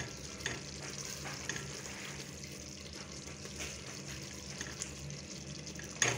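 Masala for dal kofta curry sizzles and fries in a pan over a medium flame, a soft continuous crackle heard up close and fairly quiet, with no voices.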